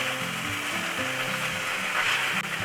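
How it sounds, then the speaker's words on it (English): Old Bay–seasoned salmon sears skin-side down in a hot frying pan, a loud, steady sizzle up close that never lets up, with a low hum underneath and no voices. "now we're going to crisp that skin really good on that thing"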